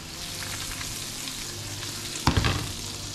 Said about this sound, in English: So I've got this butter with some parsley, so I'm gonna add that. It's very low heat